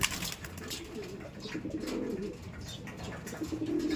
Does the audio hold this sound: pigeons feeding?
yes